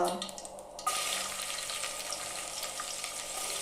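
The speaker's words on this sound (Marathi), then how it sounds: "टोपशीमध्ये तेल तापत ठेवले त्यामध्ये टाकते कढीपत्ता" Curry leaves hit hot oil in a pan with a sudden loud burst of sizzling that settles into a steady, close spattering hiss, preceded by a brief quieter moment.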